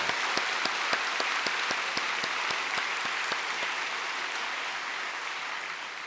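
A church congregation claps during a Thanksgiving Sunday family worship service in a Korean Methodist church. The applause is continuous and roomy, with a few sharper individual claps standing out, and it gradually softens as it goes.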